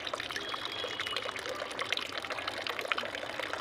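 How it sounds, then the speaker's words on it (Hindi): Water drains out of a plastic bottle during a cigarette smoke experiment, a soft, continuous trickling and gurgling stream heard close by on its own. "पानी नीचे जा रहे, धुआं नीचे भी आ रहा।"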